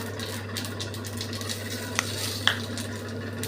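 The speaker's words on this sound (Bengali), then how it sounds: "তেল গরম হয়ে গেছে, আমি এইবার এই পাঁচফোড়নটা দিয়ে দিলাম" Panch phoron five-spice seeds sizzle in hot oil on a gas stove for a sweet carambola chutney. A steady, soft frying hiss sits over a low hum, broken by a couple of sharp pops.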